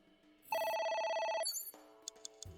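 A telephone rings in the video game AI: The Somnium Files, sounding as one loud electronic burst of rapid trilling tone. It then gives way to quieter game sounds and a few short clicks.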